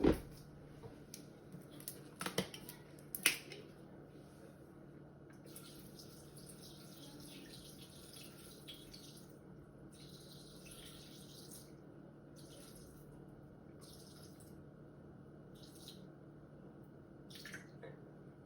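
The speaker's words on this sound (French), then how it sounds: "Et donc là on va mettre 150 g d'eau." Water poured into a Thermomix TM6 bowl, a faint, steady trickle and splash running through most of the stretch, with a few sharp knocks near the start and no talking.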